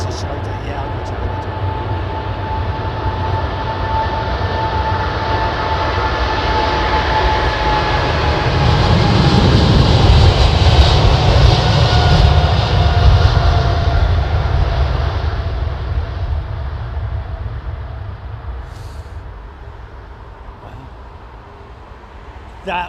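A Qatar Airways jet passes at London Heathrow Airport, its engine roar swelling to a broad peak and then fading as it goes by, with people chatting faintly in the background.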